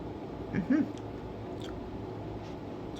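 A caramel M&M candy being chewed up close, a couple of soft crunching bites then quiet squishy chewing over low room noise.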